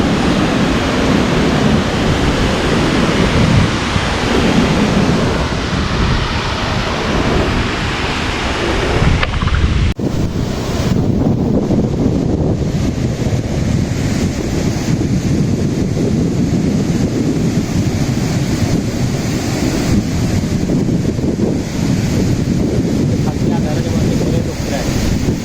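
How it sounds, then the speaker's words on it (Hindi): Heavy roar of water plunging from the top of Dudhsagar waterfall, a constant broadband rush that stays steady throughout, with wind buffeting the microphone at times. "ये है दूधसागर टॉप, और ये पानी यहाँ से नीचे गिरता है।"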